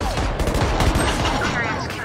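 Rapid bursts of gunfire in a tactical shooting video game where a spike is planted, sharp cracking shots packed close together over a noisy game mix.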